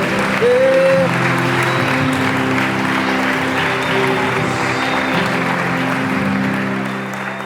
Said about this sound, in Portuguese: Aplauda o nome do Senhor Jesus nessa manhã criativa